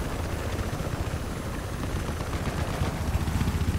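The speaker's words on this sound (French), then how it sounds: "Parce que là c'est un hélicoptère de transport de troupes." Troop transport helicopter in the Battlefield Hardline video game, a steady dense rotor and engine roar that stays loud and close throughout, with no talking.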